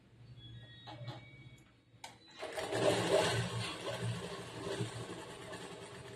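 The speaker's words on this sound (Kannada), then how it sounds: "ಡಬಲ್ ಸ್ಟಿಚ್ ಹಾಕ್ತಾ ಇದ್ದೀನಿ" A sewing machine runs a double stitch along a churidar semi-patiala pant, starting with soft clicks and hum, then settling into a steady, close mechanical whirr.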